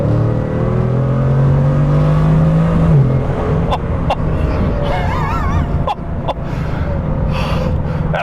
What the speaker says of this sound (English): even just tapping the throttle, you can hear the engine start to do its thing